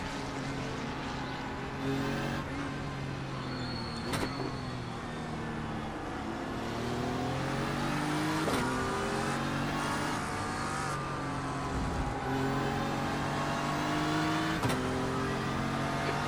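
GT3 race car engines roar in an iRacing race, a steady loud drone that climbs in pitch through the gears, with several sharp upshifts and other cars close by.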